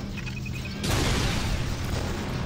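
A concussion rifle shot from Star Wars Jedi Knight: Jedi Academy lands with a sudden, loud explosive boom that rolls on as a rumbling burst, following a brief quieter tone.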